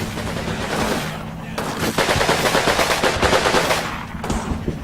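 Sustained machine gun fire in the World War II strategy game Combat Mission Final Blitzkrieg, loud rapid bursts rattling on and off over a low battle rumble, with no talk during the firing.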